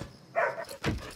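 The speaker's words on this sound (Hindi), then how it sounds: "क्यों भौंक रहा है?" A dog barks twice indoors at night, short sharp close barks separated by a brief pause.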